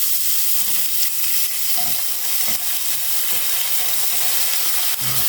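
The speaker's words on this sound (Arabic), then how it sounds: "هنحط شوية من الزيت في الطاسة عشان هدي شوية البصل تشويحة، وهحط لها قطعة الزبدة" Chopped onion sautéing in a frying pan with oil and a piece of butter, a steady close sizzle with occasional stirring scrapes and clicks throughout, no talking.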